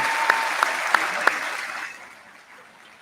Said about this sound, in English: Will you please join me in a round of applause to thank her for all of her efforts?